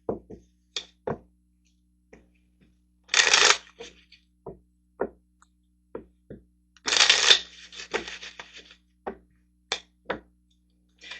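Tarot cards being shuffled to draw a card, heard as two short, close riffling bursts separated by quiet gaps with scattered soft taps and knocks of the deck.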